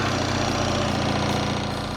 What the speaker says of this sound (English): That distinct rumble that you expect from a boxer twin.